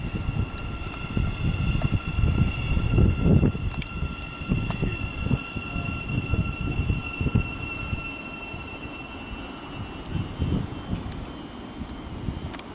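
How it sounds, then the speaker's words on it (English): A Thameslink Class 700 electric unit, 700141, on a Brighton to Bedford service pulls into St Albans City station. Steady rolling rumble, thumps and thin sustained wheel squeals fade gradually as it slows. "arriving now is the 1111 Thameslink service from Brighton to Bedford"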